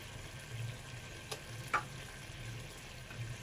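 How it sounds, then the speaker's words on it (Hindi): Masala being fried with yogurt in a pot over medium heat, a soft low bubbling sizzle with an occasional stir or clink of a spoon, faint and close, no talk. "इसकी दही के साथ भी हम इसको अच्छे से भून लेंगे"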